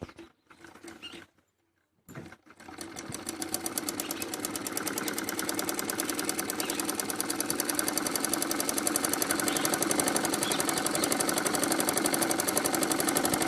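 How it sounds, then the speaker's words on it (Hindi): A sewing machine stitching salwar fabric, starting with a few short bursts and pauses, then running in a steady, loud, rapid mechanical rattle. "तो इसमें सिलाई लगाएंगे"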